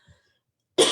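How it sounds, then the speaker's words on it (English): A single loud, close cough bursts out near the end of an otherwise quiet moment, following a faint earlier throat sound, from a speaker during a virtual meeting. "I have to cough."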